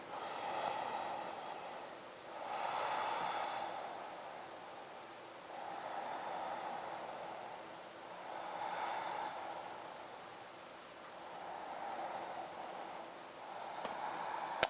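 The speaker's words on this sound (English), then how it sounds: "3 deep breaths." Slow, deep breaths during a seated yoga twist, each soft airy inhale and exhale swelling and fading in a regular cycle of roughly three seconds, faint and close with no talk.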